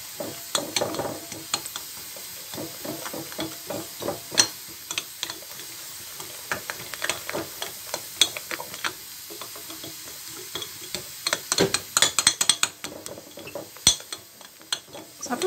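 Spoon stirring a sizzling mixture with harissa in a pan, soft scraping strokes and crackling frying hiss in an uneven rhythm, fairly quiet and close, with a few sharper clinks near the end.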